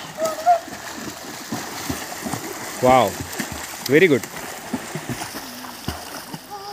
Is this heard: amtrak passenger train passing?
no